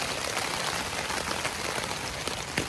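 Rain falling on a foggy, cold day on the Appalachian Trail, a steady broadband patter of drops heard alone at moderate level, with a few slightly louder hits near the end.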